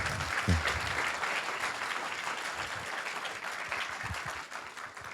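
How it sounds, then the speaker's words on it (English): Audience applause at a volunteer board's semiannual meeting, a steady wash of many hands clapping together, sustained and fairly even throughout at a moderate distance. "Can we give CC a round of applause"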